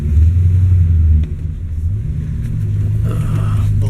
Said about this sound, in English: Sounds like I got an exhaust leak.